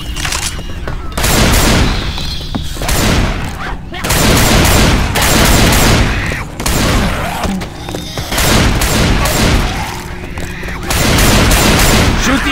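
Heavy gunfire in Left 4 Dead 2 as players shoot zombies: dense, loud bursts of rapid shots in repeated waves, broken by brief lulls, with voices heard amid the shooting.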